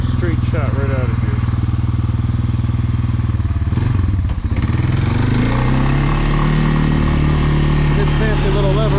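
A Honda ATV engine runs loud and close outdoors in snow, with a steady rumbling drone that dips briefly and then revs back up into a sustained note.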